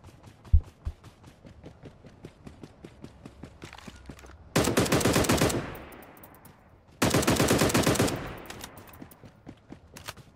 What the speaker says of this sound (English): I found an MG7 anti-vehicle weapon.